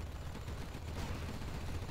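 Continuous rapid fire from a Gatling turret in a video game, a dense, steady, noisy burst lasting the whole moment without pauses.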